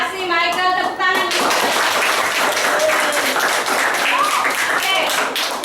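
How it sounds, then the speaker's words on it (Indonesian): Students in a classroom clap together after a classmate's presentation; a voice is heard briefly at the start, then scattered hand claps grow into a steady round of applause with a few tonal chirps mixed in. "Terima kasih Michael, tepuk tangan."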